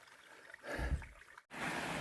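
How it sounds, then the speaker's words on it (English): A small mountain stream along the Appalachian Trail trickles and gurgles softly in a brief, quiet burst, broken by a moment's silence before the flow resumes. "I'm just going to stop by this little stream here and get me some water."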